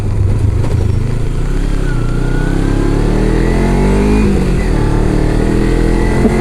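A motorcycle engine runs rough while cold on a mountain road ride, giving a loud continuous low rumble with uneven throbbing and slight rising revs close to the microphone.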